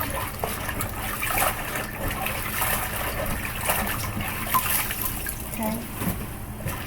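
Fresh turnip greens are swished and rinsed in water in a pan, giving a continuous close sloshing and trickling with small splashes, and a voice speaks briefly.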